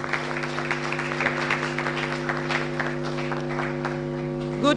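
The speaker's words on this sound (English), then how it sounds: "please truly welcome her with a well-deserved round of applause" Audience applause at the launch of the 2018 NSMQ, an even spread of clapping throughout, layered over a steady tonal hum from the sound system.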